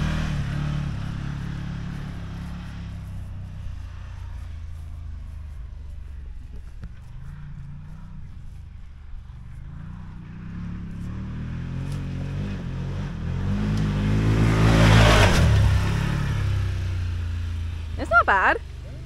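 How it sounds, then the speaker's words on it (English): A 2023 Can-Am Maverick Sport XRC side-by-side drives on a trail with a steady low engine drone that swells louder as it accelerates, under people talking. "Look at that little golf cart go."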